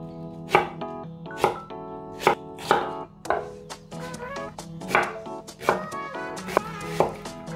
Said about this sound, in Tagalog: ang gamit kong sibuyas ay itong kulay pula